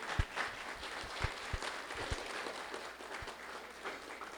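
Quiet, distant audience applause at a talk on public speaking, a continuous patter of clapping with a few sharper claps standing out.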